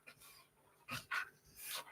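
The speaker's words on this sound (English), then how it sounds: "You have fucking sad excuse of a guard dog." Dog panting in short breathy bursts, a few quick huffs close by with brief pauses between, fairly quiet in a home setting.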